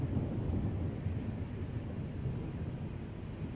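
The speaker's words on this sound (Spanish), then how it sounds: "ya se oyen los truenos" Low, continuous thunder rumbles through a severe storm under a tornado alert, a broad distant roar that holds steady for several seconds with no voices over it.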